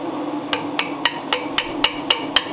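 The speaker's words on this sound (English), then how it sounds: "you can basically tap it down through" Eight evenly spaced metallic taps drive a pilot reamer down through a bushing on a 1934 Ford Tudor hot rod, close and crisp over a steady low hum.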